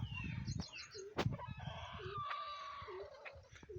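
Chickens clucking repeatedly nearby, including a black mixed-breed village hen with red on its neck, with a brief flutter of wings and other farmyard birds calling in the background.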